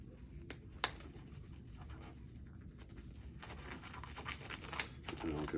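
Sterile glove packaging being handled and moved aside during tracheostomy care: soft crinkling and rustling paper scuffs, quiet and close, with a few sharper crackles.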